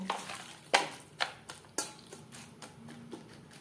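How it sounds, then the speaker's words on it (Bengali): Mutton being mixed by hand with turmeric powder and salt in a bowl for an aloo mutton curry: a few irregular wet slaps and clatters, close and fairly soft, with no talking. "লবণ হলুদ দিয়ে মাংস বেশ ভালো করে মেখে নেব"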